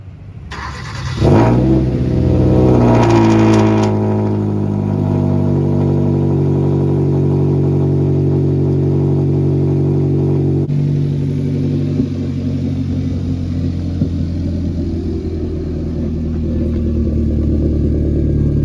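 A Hyundai Veloster fitted with a new exhaust pipe cranks and starts, revs up briefly, then settles into a steady loud idle close by, humming on without voices.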